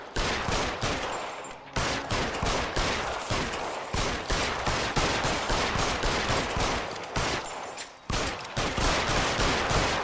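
Dense, rapid gunfire in a video game shootout from L.A. Noire, loud bursts of shots following one another for about ten seconds with short pauses, no talking.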